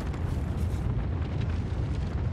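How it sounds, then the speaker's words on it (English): Cruise missile explosion in Call of Duty: Modern Warfare: a loud, sustained rumbling blast with crackling debris that fills the whole stretch and never fades out. "Cruise missile, go for it!"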